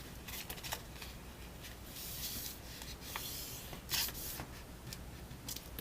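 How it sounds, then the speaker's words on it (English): Paper envelope flaps folded along their score lines for a graduation card, giving soft dry creasing and rubbing with a few sharper crinkles close by, no talking. "you want to find your score lines on the envelope and you want to fold those"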